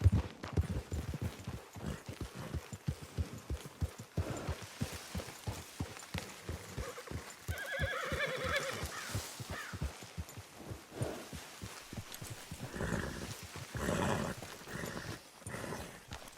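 Horse hooves clip-clop in a steady, uneven rhythm in the video game Red Dead Redemption 2, with several animals moving together at close range.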